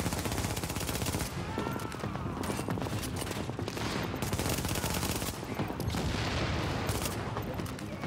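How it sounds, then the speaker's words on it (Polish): Sustained automatic gunfire in The Division, dense, loud rapid shots rattling almost continuously for the whole stretch, close and overlapping, with no voices standing out. "ostrzeliwuje nas tamten gościu właśnie"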